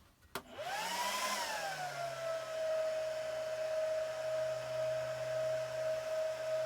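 A Supermicro SuperServer SYS-E200-8D mini server fitted with an added third 40mm fan powers on, its fans spiking in a high whine before settling to a steady, fairly quiet tonal hum.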